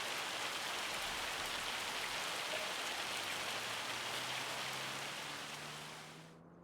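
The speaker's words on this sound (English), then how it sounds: "Yep, hails a lot there in old Alma," Hail falls in Farming Simulator 25 on an Alma, Missouri farm map as a dense, steady patter, heard alone, that fades out just before the end.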